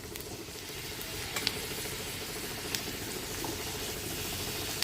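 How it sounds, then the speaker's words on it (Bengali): Boiled potatoes with turmeric and green chillies fry over low heat in a pan, a steady close sizzle and patter with a few faint clicks of stirring, no voice. "এখন আমি দিয়ে দিব সিদ্ধ করা আলু আর কাঁচামরিচ দিয়ে ভালো করে অল্প জালে ভেজে নেব"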